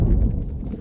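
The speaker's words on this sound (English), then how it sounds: "The thunder throws me." Thunder in the video game Garry's Mod, a loud, deep rumbling roll that fills the whole short moment with no voices over it.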